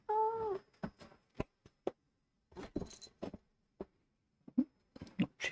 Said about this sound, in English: Chief of Security is now sitting on my lap. And saying hello to the YouTubers, kitten